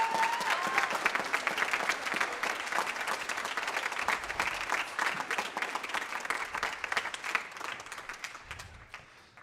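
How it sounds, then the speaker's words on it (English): Sustained audience applause fills a high school band concert hall for the student musicians on stage, dense steady clapping from a large crowd that slowly thins toward the end. "How about one more round of applause for these kids right here on stage?"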